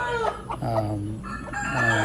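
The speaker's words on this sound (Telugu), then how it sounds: "ఇప్పుడు కనిపిస్తున్న ఈ రెండు పుంజులు" Bhimavaram breed roosters crow and cluck nearby, a short loud burst of calls with fowl voices overlapping.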